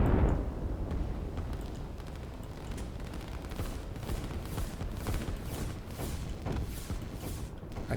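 Rocket strikes in the strategy game Line War set off a dense rumble of blasts and thuds, with repeated bursts of impacts rolling on continuously throughout.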